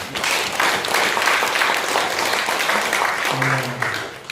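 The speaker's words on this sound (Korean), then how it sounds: "감사 박수 한번 합시다." A church congregation at a Sunday worship service claps in thanks, a dense, even wash of applause from many hands filling the room, with a voice speaking faintly near the end.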